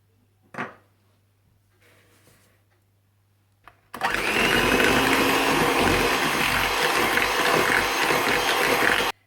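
Electric mixer beating butter and caster sugar for cupcakes, starting after a few faint clicks and thumps and then running loud and steady with a whirring, grinding drone.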